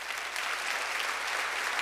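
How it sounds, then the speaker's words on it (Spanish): A church congregation applauds steadily, a dense even wash of clapping that holds the same level throughout, with no voices rising above it. "¿Le puedes dar un aplauso a Dios?"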